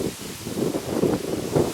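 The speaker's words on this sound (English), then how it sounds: "as you can see, it's quite windy" Outdoor wind on the Norfolk Broads in late October, a steady low rumbling buffet across the microphone that swells and eases in gusts, with no voices.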